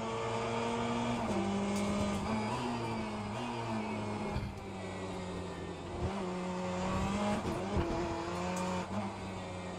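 A race car in the Le Mans Ultimate sim racing game drives hard, with a loud, continuous engine whine that climbs and drops through gear shifts, plus occasional tire noise.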